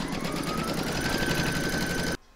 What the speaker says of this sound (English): Then you're going to pop your hoop into your machine and stitch round number one